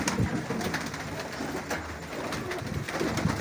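Pigeons and their young perched at a loft in Lahore, steady soft cooing and rustling running throughout at close range, with no voices.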